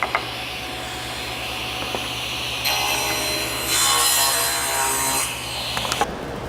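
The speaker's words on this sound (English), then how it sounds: "Set the table saw to 2 3/4 and go ahead and make your cuts." Table saw cutting wood boards while building a drawer box in a workshop, a steady motor drone rising into a louder ripping cut through the middle before winding down, heard alone.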